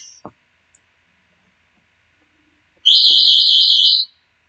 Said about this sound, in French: c'est ma mère qui fait des tests avec notre alarme. Du coup, elle s'est mise à sonner.